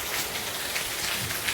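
Heavy rain pouring down in a village, a dense steady hiss of drops drumming on surfaces close by, with no talking.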